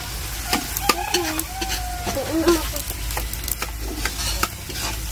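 Chicken adobo sizzles and fries in a pan with occasional stirring clatter, while people talk briefly in the background.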